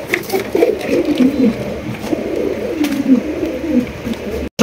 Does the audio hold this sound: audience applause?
no